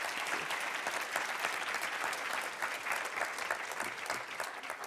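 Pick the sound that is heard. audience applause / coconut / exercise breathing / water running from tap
audience applause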